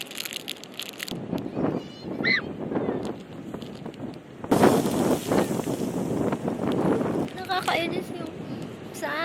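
Strong wind on a sandy spot in Australia rumbles across the microphone in gusts, loudest midway, while a person talks and a few honking calls sound.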